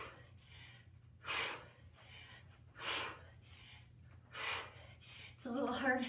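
Heavy breathing from a person doing a kettlebell hip-hinge exercise: four strong, rhythmic exhales about every one and a half seconds, close to the microphone and otherwise quiet, ending in a short burst of sound.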